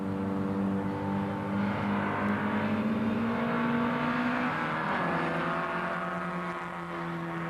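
A 1960s MGB Roadster race car drives past at Silverstone during a sports and GT race, its engine a sustained droning note that drops in pitch as it goes by.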